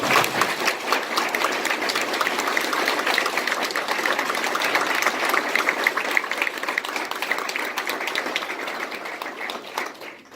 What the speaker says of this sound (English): if I could ask you to just give them a round of applause